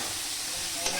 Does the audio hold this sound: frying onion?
yes